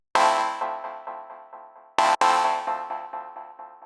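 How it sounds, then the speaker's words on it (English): A 90s tech house synth chord stab through a resonant high-pass filter sounds as a light, bright stab that repeats in a decaying echo trail, struck twice, loud and clean with no voice. "if I come in and actually use a high pass filter and bump up the resonance, you're going to get a much lighter stab sound like this"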